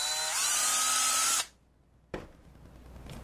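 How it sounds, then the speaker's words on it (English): A power drill bores a hole near the lip of a plastic bottle: a loud whining run that rises in pitch and holds for about a second and a half, then stops abruptly, followed by a sharp knock and faint handling noise. "You want to drill a hole near the edge of the bottle lip."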